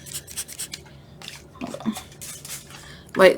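A hand spray bottle gives several short, soft spritzes of water onto paper, with faint rubbing and crinkling between them and a louder burst at the end.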